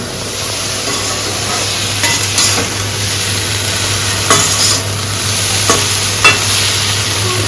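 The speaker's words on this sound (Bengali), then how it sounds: "এখন আমি একটু সময় ঢাকনাটা সরিয়ে এমনিতেই ফ্রাই করে এটাকে নামিয়ে নেব।" Okra with dried fish fries uncovered in a pan, giving a steady, fairly loud sizzle throughout with a few soft stirring scrapes.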